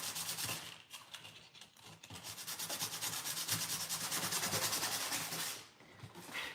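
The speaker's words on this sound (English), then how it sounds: "I'm going to go sanding that down a bit to see how it's holding up." Rhythmic rubbing strokes of sandpaper scraping across a painted wooden surface, close and steady, pausing briefly before resuming.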